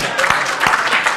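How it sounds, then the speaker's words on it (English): An after-dinner audience applauds, a brief burst of dense clapping from a room of people with some talk mixed in. "that deserves a round of applause"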